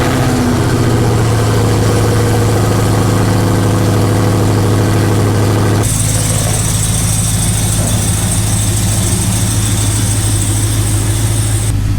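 A Hellcat-swapped Dodge Dakota pickup's V8 fires up and settles into a loud, deep, steady idle. Partway through, a sharp shift brings a brighter, hissing layer over the rumble. No one talks.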